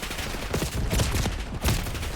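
A Black Ops 6 gunfight rattles with rapid, dense bursts of automatic gunfire, loud and close, continuing nonstop for a couple of seconds.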